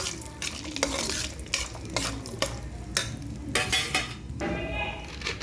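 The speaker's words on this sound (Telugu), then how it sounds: "పక్క స్టవ్ మీద నెయ్యి పెట్టుకొని జీడిపప్పు వేయించుతాం" Cashew nuts fry in ghee in a pan on a stove, giving a steady soft sizzle. Metal stirring scrapes and clinks recur every half second or so, close and fairly quiet.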